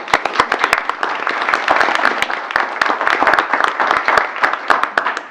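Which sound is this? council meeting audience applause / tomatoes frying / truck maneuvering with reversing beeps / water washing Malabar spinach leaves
council meeting audience applause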